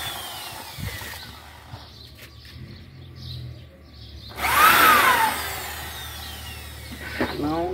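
A power drill driving screws into a sliding door: a short, rising whir of the motor in the middle, flanked by quieter handling noises and faint background sounds.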